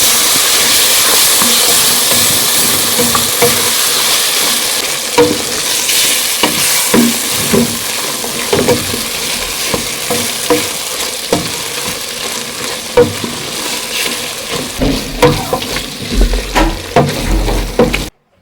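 Tripe and softened tomatoes being stirred in a pot, with a loud wet sizzle and repeated scraping strokes of a spoon against the pot, close and continuous, with no talk.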